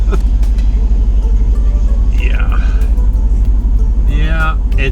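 Underpowered truck engine slowly pulling forward in town, a loud steady low drone with little rise in pitch, while someone talks over it.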